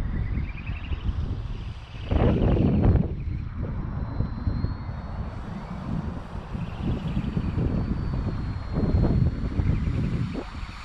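Propeller aircraft engine droning steadily with wind rush, swelling louder in a couple of surges as the gyrocopter takes off.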